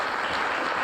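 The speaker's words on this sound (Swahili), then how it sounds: "Makofi tena" Guests at a team luncheon for the Harambee Stars football squad give a short burst of steady applause, a brief wash of clapping from the room.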